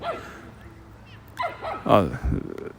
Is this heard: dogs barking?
yes